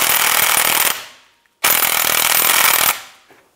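An impact tool snugs down the rear drive shaft bolts on a Cadillac SRX, 2010-2016 model, with two loud close bursts of rapid hammering, each about a second long, separated by a short pause.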